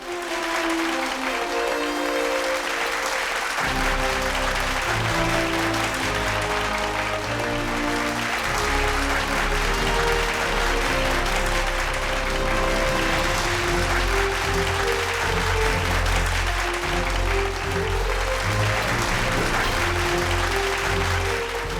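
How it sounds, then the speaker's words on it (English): An audience at a business awards ceremony gives a steady, sustained round of applause for a winning company while music plays underneath throughout. "With a huge round of applause, let's congratulate Celonis."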